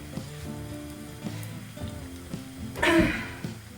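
Belyashi pastries stuffed with meat and potato frying in oil give a soft, crackling sizzle, fairly faint and steady, swelling to a louder burst of spitting near the end.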